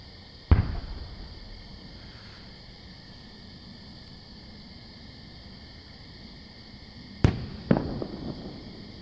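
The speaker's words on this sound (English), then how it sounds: "added some fireworks." Two bursts of fireworks launched in a VR game, one near the start and a double pop later, sharp cracks with brief fizzing tails against a steady background hiss.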